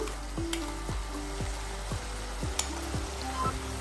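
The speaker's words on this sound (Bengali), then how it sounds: "এক মিনিট ভেজে নিয়ে আমি দিয়ে দিচ্ছি মশলার পেস্টটা" Spice paste for Kolkata-style masala paneer frying in a pan, giving a steady close sizzle with soft rhythmic scraping strokes of stirring and a few light clinks.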